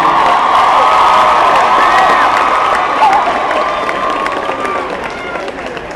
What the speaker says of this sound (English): Another round of applause for Russel Simmons.